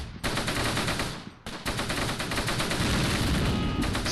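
Dense gunfire and explosions from the Close Combat war game, set in Normandy in 1944: rapid, loud machine-gun bursts roll continuously with brief gaps, no talk over them.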